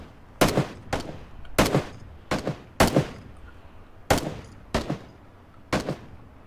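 Gunshots in PUBG ring out as eight or so sharp, loud reports in uneven pairs and singles, each with a brief echoing tail, over quiet background and no talk.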